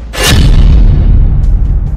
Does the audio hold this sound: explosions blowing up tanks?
yes